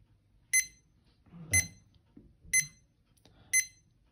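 A Seiko QHL066S travel alarm clock beeps four times at a steady one-second rhythm, each short bright electronic burst clear and close against near silence.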